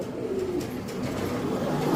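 Soft, low cooing of Jabra pigeons at a pigeon market, a murmuring coo running through the short stretch over faint background noise.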